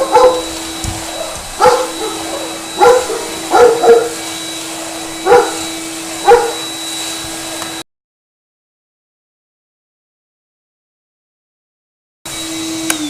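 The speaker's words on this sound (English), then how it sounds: "So let's just switch on the vacuum cleaner and see how powerful it is." A vacuum cleaner with a screw-on attachment drones at a steady pitch, close and loud, while a dog barks and yips repeatedly; the sound cuts to silence midway, then the motor returns.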